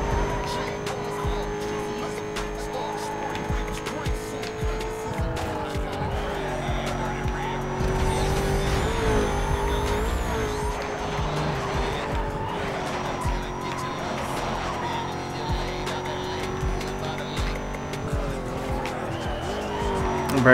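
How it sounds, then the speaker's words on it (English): Porsche Carrera GT engine in the 2005 game Need for Speed Most Wanted, a loud sustained racing drone that rises and falls with gear changes, mixed with tyre squeal and other cars throughout. "It's a Carrera GT. I can tell by the engine note."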